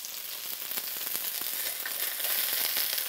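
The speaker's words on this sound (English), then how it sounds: "you want to give the chicken a chance to begin to sear" Chicken searing in a hot wok, a close, continuous bright sizzle with small crackling pops, steady and alone without any talking.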